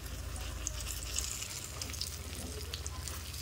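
Food fries in oil in a kadai, giving off a continuous faint crackling sizzle with small pops over a low background hum.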